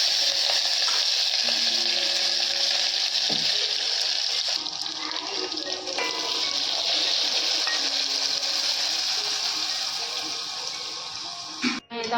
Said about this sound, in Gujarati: મારી મમ્મી દહીં વઘારે છે